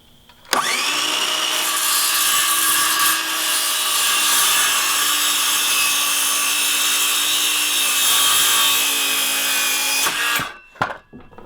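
Sawing through a wooden board for a tiny house gable end truss, a loud, steady cutting sound that runs unbroken for about ten seconds and then stops, with a few faint knocks afterward.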